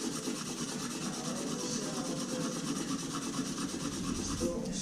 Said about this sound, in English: So I take some 400 and I'm going to just flat sand it on here.